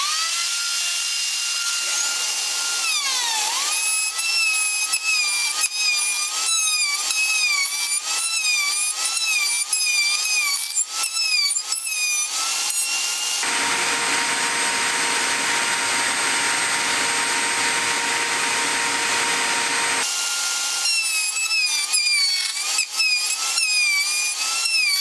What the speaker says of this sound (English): I'm going to do it with the router, and you'll see how it's done.